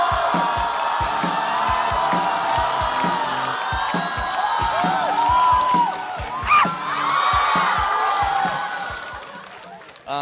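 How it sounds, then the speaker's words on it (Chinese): A stand-up comedy audience cheers and claps to welcome a comedian to the stage, a loud crowd roar with whoops and applause that holds steady before dropping away at the end. "让我们掌声有请傅航。"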